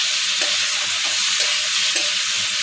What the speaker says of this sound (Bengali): চিংড়িটাকে হালকা করে ভেজে তুলে নিয়েছি